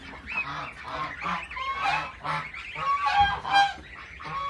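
Geese in a farmyard coop honk in a close, busy chorus, with overlapping nasal calls rising and falling in quick bursts throughout.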